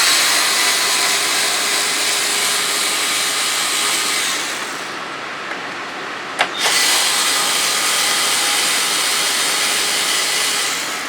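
Cordless screwdriver running steadily while removing side panels from a 2014 Can-Am Spyder, a continuous loud whir that stops briefly midway with a sharp click before resuming.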